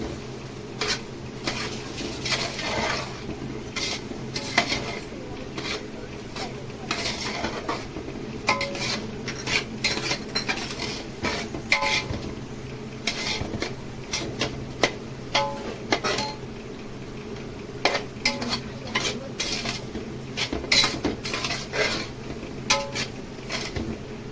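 Semolina (rava) for a Satyanarayan mahaprasad batch is stirred in a pot, with a metal spoon scraping and clinking against the pot in a steady rhythm. A light sizzle runs underneath the close, continuous stirring.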